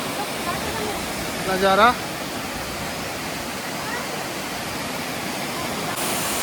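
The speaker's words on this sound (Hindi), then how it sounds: "ये इस रास्ते का सबसे खूबसूरत झरना है और पानी की फुहारें सीधे मेरे ऊपर आ रही" A mountain trail waterfall splitting in two as it falls sends spray over someone standing close, heard as a steady broadband rush throughout, with a brief spoken word near the start.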